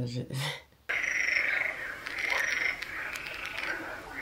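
A loud chorus of toads or frogs croaks continuously through the night, a dense trilling drone that follows a brief moment of speech at the start.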